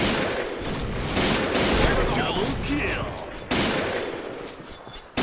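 Rapid gunfire in a first-person shooter game, including a PGM Hecate II sniper rifle, with dense overlapping bursts and shots, loud and continuous, while someone talks excitedly over it.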